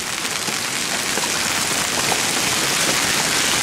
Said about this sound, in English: Now the big hail's hitting.